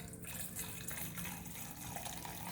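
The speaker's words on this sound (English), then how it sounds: "So just boil some water in the kettle, and you're gonna fill it up about" Boiled water from a kettle pours into a bowl in a steady, soft gushing stream, close and fairly quiet, with no talking.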